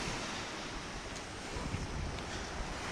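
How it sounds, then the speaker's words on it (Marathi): Sea waves washing onto the beach at Kunkeshwar, Devgad, on the Konkan coast: a steady, full surf roar with wind buffeting the microphone throughout and no voices. "हा आहे कुणकेश्वरचा समुद्र."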